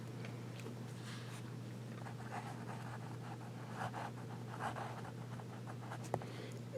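A fine-nibbed Montblanc fountain pen scratches softly across paper in short strokes and squiggles, faint and close over a steady low hum, with no talking.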